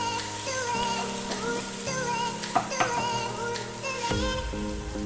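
Ginger garlic paste sautéing in a pan for a chicken gravy, a steady close sizzle with occasional stirring clatter and soft pops, no talk over it.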